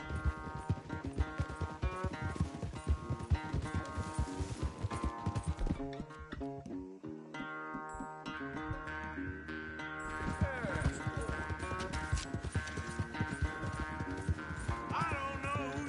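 Rapid clip-clopping hooves of galloping horses in a race in Red Dead Redemption II run beneath busy, layered game music, steady for most of the stretch with a brief lull midway.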